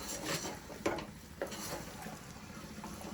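Quiet clinks and scrapes of a spoon stirring country chicken curry in a pot, a few distinct knocks over a low background hiss.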